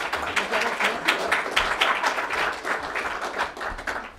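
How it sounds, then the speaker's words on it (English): Audience applause for a speaker at a Pendragons gathering, dense steady clapping from a crowd lasting several seconds. "Give her a clap, everybody."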